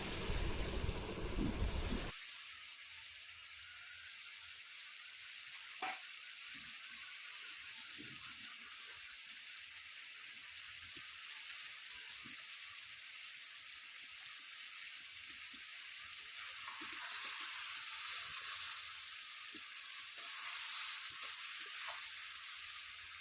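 Fresh river punti fish frying in a pan, a steady broad hiss of sizzling moisture with occasional stirring clatter, close and continuous throughout, no voices.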